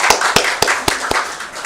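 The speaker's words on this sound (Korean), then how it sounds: "격하게 박수를 좀 쳐야지." Congregation at a Thanksgiving Sunday church service clapping hands, about five sharp, evenly spaced claps in a steady rhythm, close and distinct.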